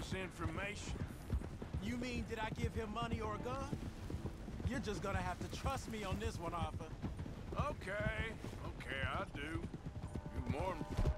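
Horse hooves clip-clop and gallop in the Red Dead Redemption video game, a steady rhythmic pounding under continuous talk from players throughout.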